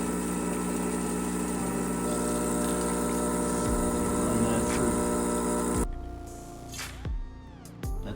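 A Gaggia Classic espresso machine pump droning loudly and steadily while pulling espresso shots, with a low harmonic hum that cuts off abruptly near the end, leaving quieter clicks and rattles.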